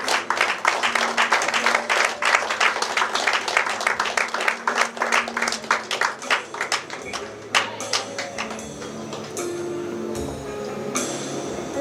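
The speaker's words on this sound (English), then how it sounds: "Let's give them a big round of applause." Audience applause at an awards ceremony honoring influential Africans, dense steady clapping from a crowd lasting throughout, thinning slightly toward the end, with no voices over it.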